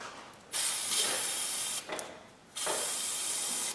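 Brake cleaner sprayed from an aerosol can during a Toyota Corolla front wheel bearing replacement: three long, loud hissing bursts with short gaps between them, close to the mic, no talking.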